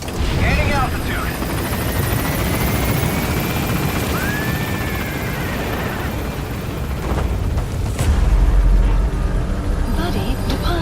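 A military helicopter in Metal Gear Solid V lifts off and climbs, its rotor and turbine roar loud and steady throughout, with a deep low-end surge near the end.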